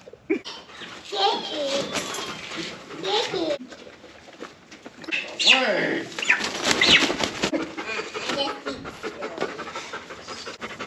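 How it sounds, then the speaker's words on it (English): Turkeys being caught flap their wings in loud bursts, mixed with panting, scuffling and animal sounds, while people talk at intervals. "Now we're going to catch the turkeys."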